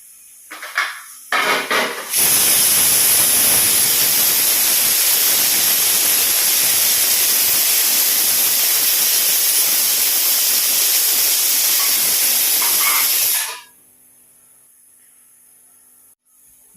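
A pressure cooker whistles loudly and steadily while beans cook, a long sustained steam hiss lasting about eleven seconds with quieter kitchen sounds before and after.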